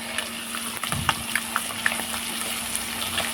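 Marinated fish pieces deep frying in hot oil give a continuous close bubbling sizzle, dotted with small crackling pops and a brief splashy surge as pieces drop in.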